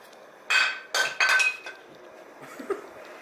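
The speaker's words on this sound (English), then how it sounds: "let's remove this canister real quick. Yeah, pull it off." An emissions canister is pulled off a vehicle with a few sharp, hollow clanks and rattles in quick succession, close and fairly loud, followed by fainter scraping.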